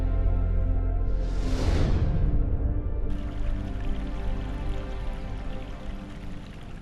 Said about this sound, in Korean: 물소리만 가득한 밤.